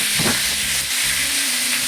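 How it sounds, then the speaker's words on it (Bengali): Steady, loud sizzling hiss of onion paste frying in hot oil in a pan, continuous throughout with a low background hum and no talking. "কড়াইয়ে পরিমাণ মতো তেল দিয়ে দিলাম এবং পেঁয়াজ বাটা দিয়ে দিলাম।"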